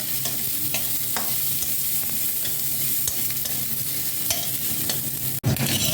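Kalonji, ginger paste and chopped green chili sizzle hard in hot oil, a continuous loud crackle broken by a few stirring scrapes and one sharp clatter near the end.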